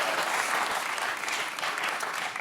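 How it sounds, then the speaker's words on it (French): A TV studio audience claps vigorously, a thick, continuous burst of applause that stays loud and even for a couple of seconds. "on peut l'applaudir très fort"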